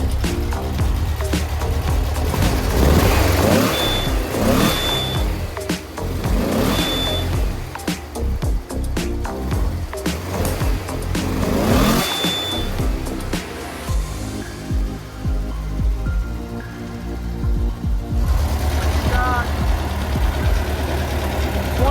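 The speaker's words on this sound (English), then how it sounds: "What a nice little peppy engine right here." A small air-cooled 1600cc VW Type 1 engine runs up close with a rough, clattery idle, revving briefly in places before easing back to a lighter putter.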